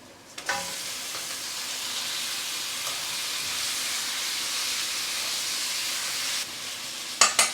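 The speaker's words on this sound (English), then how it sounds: "Now we're going to add 1 kg of mutton." One kilogram of mutton dropped into a pan of golden fried onions, ginger and garlic over high heat, bursting into a loud, steady hiss and sizzle after an opening clatter, with a few metallic knocks near the end.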